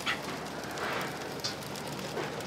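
Rain falling steadily outdoors, a broad continuous hiss with scattered louder drops and patter, building toward a heavier downpour; no talking.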